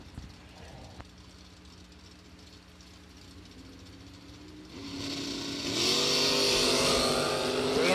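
Drag race cars, a Chevrolet Monza and a small-tire Nova, idle low under an announcer's voice, then roar louder as the engines rev hard toward the launch.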